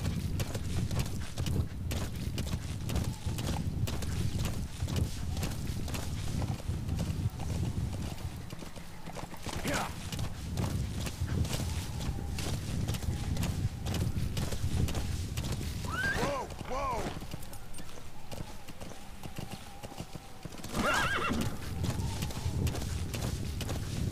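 A horse's hooves clip-clopping steadily and a couple of whinnies in the Metal Gear Solid V video game, with people talking over the game audio.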